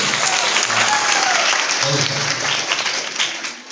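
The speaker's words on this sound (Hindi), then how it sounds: "एक ताली बजा दीजिए सबको" An indoor audience claps together at a magic show, a loud, close burst of applause that holds for a few seconds and then tapers off, with a voice speaking over it.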